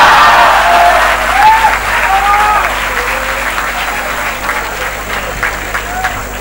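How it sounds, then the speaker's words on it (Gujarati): An audience at a college techfest applauds a performer, the clapping strong at first and then thinning gradually, with a voice talking over it. "દોસ્તો જોરદાર તાળીઓથી સાયરામભાઈ નું આપણે અભિવાદન અને સ્વાગત કરીએ."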